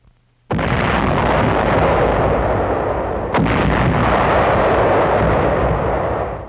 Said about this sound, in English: Naval shelling softens up Jap positions on Aka Island in an early phase of the invasion